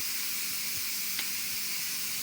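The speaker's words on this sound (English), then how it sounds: "you always want to hit this little button right here, which will make all this beautiful steam come out" Steam rushes out of a pressure cooker's release valve while beef stew cooks, a loud, steady broadband hiss that continues unbroken, with a faint click partway through and no voices.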